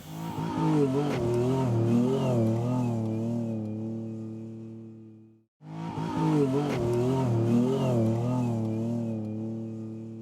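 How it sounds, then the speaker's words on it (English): A Jeep Wrangler Rubicon V6 with modified suspension and mud-terrain tires revs in sand dunes, two long, loud rising engine pulls separated by a brief drop to near silence. "new Jeep Wrangler Rubicon V6, fitted with a tricked-up suspension and mud-terrain tires. And it's pretty awesome in these dunes"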